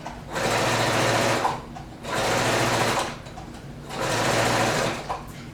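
A sewing machine stitches a quilted tote bag in three bursts of steady whirring, each about a second and a half long, with short pauses between them.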